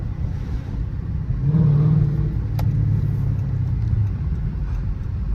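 A Chrysler 300C SRT's engine rumbles close by, its low growl swelling briefly as it revs, then holding a steady idle.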